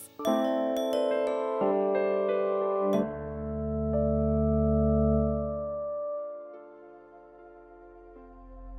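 A subscribe-bell notification chime rings out as a bright sequence of bell tones, the last strike ringing long and slowly fading away on its own.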